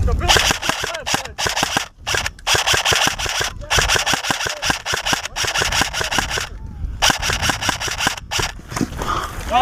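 An airsoft gun in a game fires BBs with feeding issues, making rapid bursts of sharp cracking shots broken by short gaps. It is close and loud, with faint voices mixed in.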